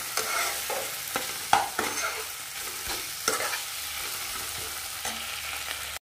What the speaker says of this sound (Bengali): সব কিছু দিয়ে এটাকে ভালো করে নাড়াচাড়া করে দেবো।